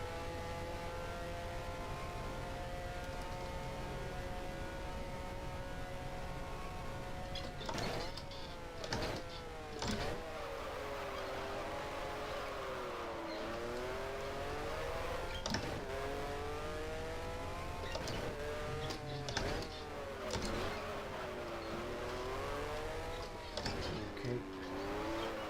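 A 1973-season Formula 1 car in the F1 Challenge game revs hard and shifts through the gears. The engine whine rises and falls repeatedly with sharp clicks at each shift, steady and fairly loud, with faint talk at times.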